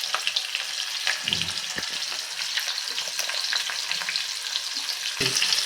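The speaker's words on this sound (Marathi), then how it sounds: "हाय हीटवरच तळून घ्यायचं बघा अशा पद्धतीने" Paneer cubes deep-fry in hot oil on high heat for restaurant-style chilli paneer, giving a loud, continuous sizzle and bubbling with a few brief clanks of a utensil, and no voices.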